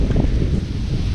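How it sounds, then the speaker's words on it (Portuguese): A strong gust of wind beside a sugarcane field near Pontal, São Paulo, on a hot day, roars steadily into the microphone as a loud, low, broadband rush for about a second. "Rajada forte de vento agora."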